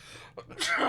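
A single person's sneeze in a small podcast studio, a short intake of breath followed by a sharp, loud burst close to the mic.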